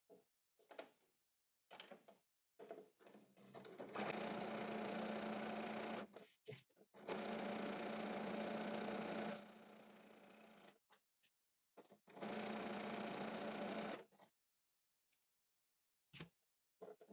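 Sewing machine stitching the side seams of a skirt in three sustained bursts of steady whirring, separated by pauses with small clicks and handling sounds.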